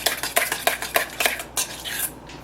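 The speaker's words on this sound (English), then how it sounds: "So I'm just going to stir this up until everything is mixed in really well." A spoon stirs tzatziki sauce in a bowl, making a steady run of crisp clinks and scrapes against the sides, close and fairly loud, slowing near the end.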